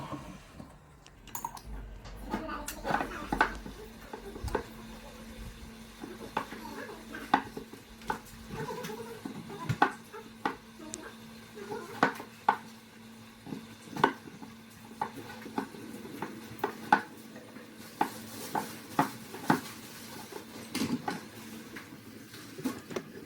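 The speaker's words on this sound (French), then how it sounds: "Vous allez donc ensuite rajouter les 2 cuillères à soupe d'huile d'olive et continuer à mélanger" Homemade pizza dough is stirred with olive oil in a bowl, giving repeated soft scraping and tapping strokes in an uneven rhythm, close and fairly quiet, with no talking.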